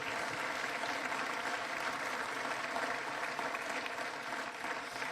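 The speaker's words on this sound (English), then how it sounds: "Another round of applause for Chief Sloly." Sustained applause from a crowd at a mayor's breakfast honoring a police chief, steady and fairly full throughout, with no voices standing out.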